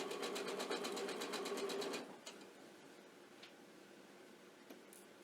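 A sewing machine stitches in the ditch along rickrack binding with quick, even rhythmic clatter for about two seconds, then stops, leaving faint handling sounds.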